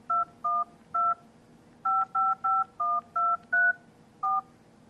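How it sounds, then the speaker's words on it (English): Keypad dialing tones on a Nokia 5800 phone, ten or so short dual-tone beeps entered in an uneven rhythm, clear and close with no talk. "So if we just dial a random number"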